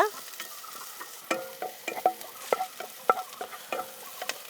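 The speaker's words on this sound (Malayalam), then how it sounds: "ഈ ചെറിയ ഉള്ളി ഒന്ന് നന്നായിട്ട് പൊരിഞ്ഞ് വരട്ടെ കേട്ടോ" Finely chopped small shallots fry in ghee with a soft sizzle under repeated scraping and clinking stirs of a spoon against the pan, irregular and close.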